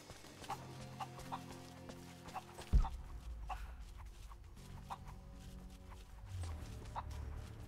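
Chickens cluck in a pen in the game Rise of the Tomb Raider: short, quiet clucks repeat at a steady pace over a low rumble, with one sharp thump partway through.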